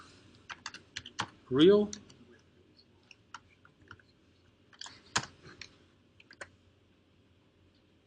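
Keystrokes on a computer keyboard while entering a plotting command during a chemistry lab session: scattered, close taps in short bursts, with one brief spoken word early on.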